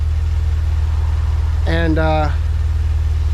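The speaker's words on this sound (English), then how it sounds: "I'm gonna let the engine warm up" A Maserati Ghibli engine idles steadily while warming up, a constant close low hum throughout, briefly overlaid by a short spoken word.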